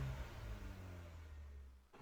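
Stock exhaust on a car revving, a steady low engine note with strong harmonics that holds and drops off near the end, loud and close with no talk.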